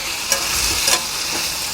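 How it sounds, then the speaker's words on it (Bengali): Taro pieces seasoned with turmeric and salt fry in hot oil in a wok, a steady close sizzle with brief louder crackling bursts and a few stirring scrapes. "কচুগুলো ভেজে নেব"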